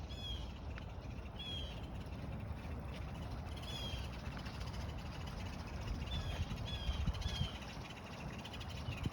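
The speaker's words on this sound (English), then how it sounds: "the birds that you hear" Crows and other birds call and caw intermittently beside a flowing creek in Atlanta, moderately distant, over a steady broadband rush of running water.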